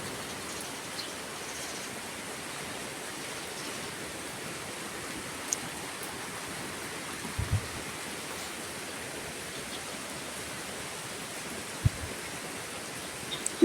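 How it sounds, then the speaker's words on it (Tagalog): Heavy rain pours outside a house with a plant area, a steady, dense hiss of falling water that stays at an even level throughout, with a few faint knocks and drips. "Parang ayaw na tumigil ng ulan mga kababayan."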